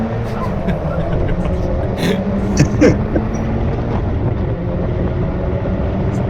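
A pack of Mazda MX-5 race cars pulls away at a race start at Donington Park, a continuous mid-distance engine drone with rising and falling whines from several cars.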